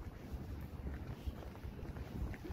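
Wind buffets a microphone outdoors in rainy, dirty weather during fibre optic cable work, a rough, gusty low rumble with no talk.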